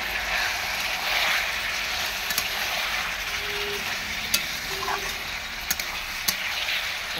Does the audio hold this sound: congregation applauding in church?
no